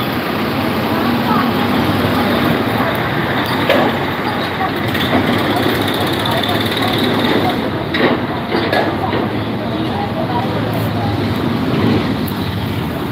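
Heavy road traffic keeps up a steady roar of trucks and buses, with engines idling and passing close by, and faint voices mixed into the din.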